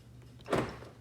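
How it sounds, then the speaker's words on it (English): A 2018 Dodge Charger door shuts with a single firm thud midway, alone against a faint low hum. "Shut the door."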